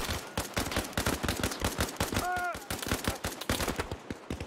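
Rapid gunfire in the military shooter Arma Reforger, dense repeated shots and bursts crackling nearly nonstop, loud and close, with a brief tonal sound in the middle.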